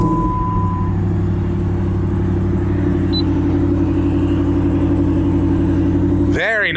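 A 2010 Jeep Grand Cherokee SRT8 with 91,000 miles idles with a steady, deep engine rumble, close and loud, then a brief rising sound near the end.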